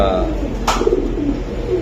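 Silver Giribaj pigeons, a Pakistani breed, give a short soft coo at close range, with a brief higher call and some background chatter.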